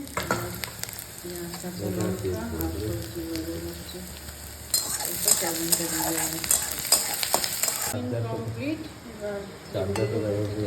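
Sizzling and frying in a pan as an egg is stirred into spice paste, with repeated stirring and scraping; a voice talks intermittently, and the sizzle surges louder midway.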